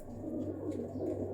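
Show pigeons of the Gehna and Romeo breeds coo softly nearby, a low, rolling throaty murmur sustained through the short moment, fairly quiet and without any talking.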